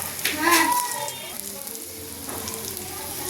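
Vegetable pakoras fry in hot oil with a steady, close broadband sizzle, a louder burst of bubbling early on, then continuous crackle for a few seconds.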